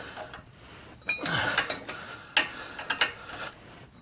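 A sway bar link bolt on a Durango is tightened with a wrench, giving a close metallic ratcheting and clicking in short uneven bursts, with a brief whirring tool-like sweep near the start.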